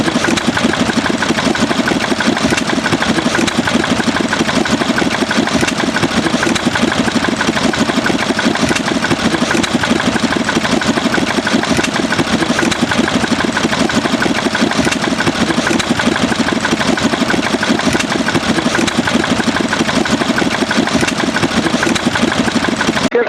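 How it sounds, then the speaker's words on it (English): A 1951 Southern Cross YB 4 horsepower diesel engine, built by the Toowoomba Foundry, runs loud and close with a steady, fast, even chugging throb that never lets up, no voices. "we've got a YB Southern Cross 1951 vintage, a 4 horsepower diesel made by the Toowoomba Foundry in Toowoomba"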